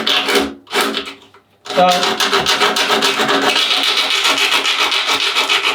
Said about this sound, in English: What you're going to need is the coarsest sandpaper you've got, which is 40 grit.